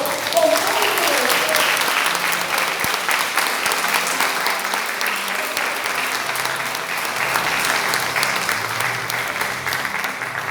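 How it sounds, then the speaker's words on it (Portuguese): A church congregation claps continuously during a worship service, a broad, sustained wash of many hands lasting several seconds, with a faint voice briefly audible at the start. "Quantos creem podem dizer glória a Deus e podem aplaudir o Senhor?"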